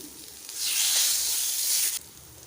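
Bay leaves dropped into hot oil with finely chopped garlic give a sudden loud sizzle that holds steady for about a second and a half, then cuts off abruptly.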